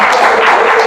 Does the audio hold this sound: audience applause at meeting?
yes